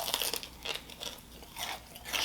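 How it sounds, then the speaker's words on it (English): Extra well done Wingstop chicken wings are crunched and chewed up close, giving several crisp, crackly bites spread irregularly, moderately loud with no talking. "you get the extra well done so you got that crunch on it"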